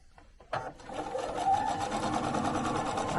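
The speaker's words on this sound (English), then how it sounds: "And we'll go to the machine and stitch these on." A sewing machine runs steadily after a brief start, stitching 3-inch fabric snowflake pieces onto a panel, the motor hum close and continuous with no talking.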